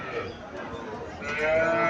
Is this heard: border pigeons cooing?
no